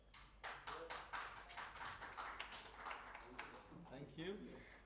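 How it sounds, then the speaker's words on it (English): Clapping at a national policy conference, a quick series of distinct hand claps from a small group that thins out, with people talking nearby and voices continuing as it fades. "Clapping."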